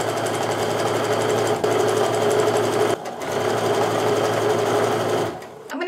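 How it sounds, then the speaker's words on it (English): Sewing machine sewing quarter inch seams on a bargello quilt strip, a loud close continuous rapid stitching drone with two brief dips, then slowing near the end. "I'm just going to repeat as I go down this strip sewing my quarter inch seams."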